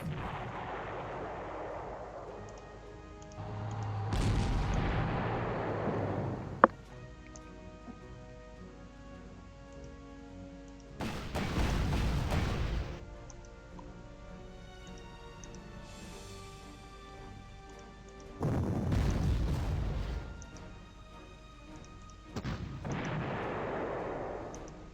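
Artillery fire in a World War II strategy game set around Berlin: four heavy booming blasts spread several seconds apart, each with a rumbling decay, over a low continuous game soundtrack.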